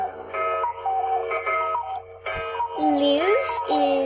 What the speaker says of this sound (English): A cuckoo clock.